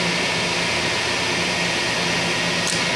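A Sharp LMV-42 vertical knee milling machine runs at mid-range speed, a steady loud whir with broadband hiss and a faint hum, constant throughout with no voices.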